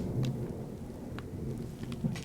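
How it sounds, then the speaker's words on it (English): Thunder rumbling low and steady under rain, with a couple of brief crackling bursts, moderately faint and alone without talk. "Thunderclap."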